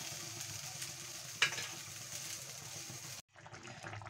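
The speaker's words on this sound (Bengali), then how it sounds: "আবারও আমি ভালো করে মিশিয়ে নেব, নাড়িয়ে দিয়ে" Chicken being stirred in a cooking pot, a soft continuous sizzle and wet shuffling with one sharp clink of a utensil partway through, quiet and close, then a brief gap.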